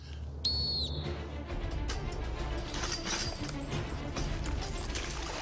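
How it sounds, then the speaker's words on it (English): A race starter's whistle blown once, a loud, shrill, clear blast of about half a second at the start of an obstacle race between a marine and an expert, followed by outdoor rumble and scuffling movement. "OK, you'll be going on my whistle, Steve."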